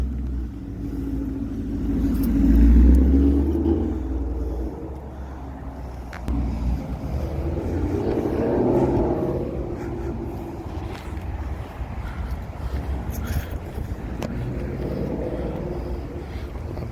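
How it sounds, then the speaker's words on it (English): A 2020 Ford F-250 Super Duty with the 7.3 gas engine accelerates on a drive around the block, its deep exhaust rumble swelling in two strong pulls and then settling into a steady cruising drone. "Get some exhaust sounds, some acceleration, and so on."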